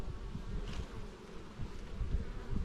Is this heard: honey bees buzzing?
yes